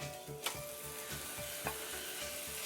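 Beef pieces fry in bumbu spice paste in a pot for Indonesian rendang, giving a close, continuous sizzle with a few sharper spits and crackles.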